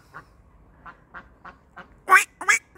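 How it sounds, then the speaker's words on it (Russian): Several soft, evenly spaced quacks, then a few louder, harsher calls near the end, from ducks close by in a quiet outdoor setting near a river. "Ой, даже утки у нас тут"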